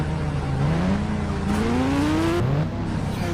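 A Kawasaki motorbike in the mobile game Indian Bike Driving 3D revs and climbs through gears, its engine pitch rising repeatedly under a constant synthetic hum, loud and unbroken with no talk.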